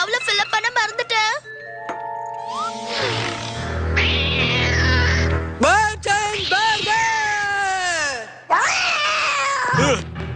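A cartoon cat lets out a string of drawn-out, wavering meows and yowls with musical tones in between, loud and close in an animated Kid vs Kat scene.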